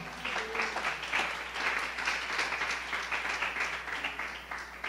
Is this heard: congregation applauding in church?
yes